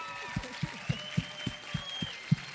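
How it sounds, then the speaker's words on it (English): Applause for an executive director at a 2022 Access Academies evening event, heard as a steady run of evenly spaced claps over a sustained tonal background. "And let's a round of applause for Shelley."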